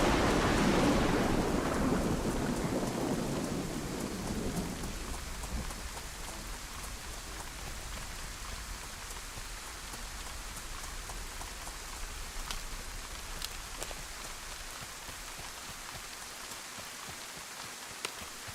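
Steady rain falls in the video game DayZ, a dense continuous hiss with a louder low rumble of thunder at the start that fades away, no voices over it.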